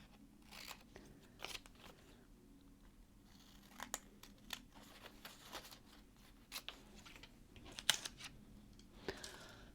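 Scissors trimming a paper bra pattern piece, quiet close snips and crisp paper crunches in an irregular run of separate cuts, with no talk.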